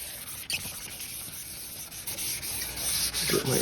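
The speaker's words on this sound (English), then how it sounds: "There's a really chewed up section right here I'm sanding through." Steady close-up sanding of a pitted, oxidized acrylic turntable dust cover, a rough continuous rubbing scratch with slight changes in pressure.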